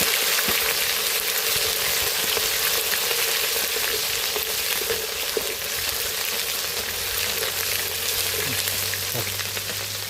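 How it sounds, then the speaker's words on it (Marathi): Ginger garlic paste frying in plenty of hot oil gives a steady, dense sizzle throughout, close and moderately loud, with a faint low hum underneath and no talking. "दोन चमचे आलं लसूण पेस्ट टाकून घेतो त्याच्यामध्ये तेलामध्ये चांगलं करू देतो"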